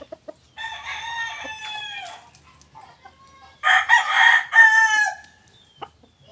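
A backyard gamecock rooster clucks and calls close by, then lets out a loud, drawn-out crow that ends with a trailing note, followed by a few faint clucks.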